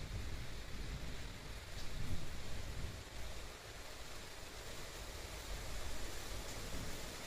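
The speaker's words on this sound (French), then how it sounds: "C'est le déluge." A heavy thunderstorm downpour roars as a dense, rumbling wash of noise, steady and close, swelling slightly at moments with no talking.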